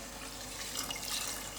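Water pours steadily into a pot of rice to cover the grains, a continuous close splashing trickle heard alone.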